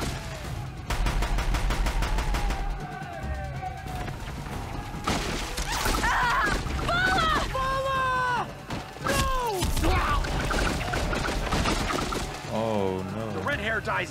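An enemy's gun firing in the video game Horizon Zero Dawn, sharp intermittent shots and thuds mixed into busy game sounds, with a player talking excitedly over much of it.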